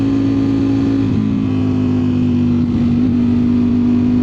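A Ducati Streetfighter V4S motorcycle on mountain roads, heard as a loud, close, steady engine drone that holds an even pitch throughout, with no talking.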